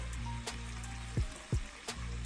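Liquid poured into a pot of baked potato soup, heard as a few short close splashes and trickles over a steady low background hum.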